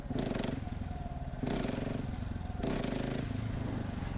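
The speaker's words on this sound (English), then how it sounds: "In the beginning, you'll give it just not enough throttle." Motorcycle engine revved in three short bursts with too little throttle for a wheelie, each rise a loud, close growl that drops back between bursts.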